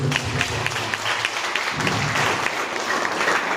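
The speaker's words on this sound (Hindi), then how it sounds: "उनके लिए एक बार जोरदार ताली" Dense, steady applause from an audience at a nursing institute farewell ceremony, many hands clapping loudly and continuously with a faint crowd murmur underneath.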